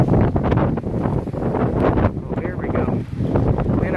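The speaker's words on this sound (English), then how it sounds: "Alright, here comes the winds." Strong wind from a severe thunderstorm during a power outage buffets the microphone in loud, continuous roaring gusts with brief lulls, as trees toss nearby; someone talks over it.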